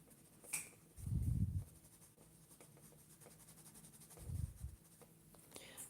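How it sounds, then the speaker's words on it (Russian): Pencil tip scratching shading strokes across a sheet of drawing paper, faint and close, with two louder bursts of scraping amid quiet rustling. "То есть я беру просто лист, начинаю штриховать или вести линии,"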